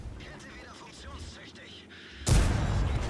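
A tank cannon fires in the game World of Tanks during a round on the Siegfried Line map, one sudden loud blast breaking in late after quieter game ambience and commentary.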